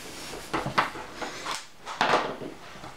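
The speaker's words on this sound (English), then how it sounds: "now we're gonna open up a can of canned milk" A can of evaporated milk is opened in a home kitchen. A handful of short, sharp metallic clicks and scraping bursts come close and fairly quiet, separated by brief pauses.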